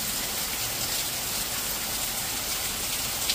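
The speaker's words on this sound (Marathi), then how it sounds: "दिदे बाहेरचा पाऊस दाखव का बाळा" Rain falling outside during a heavy downpour, an even wash of broadband hiss that holds steady throughout, moderately loud, with no talking.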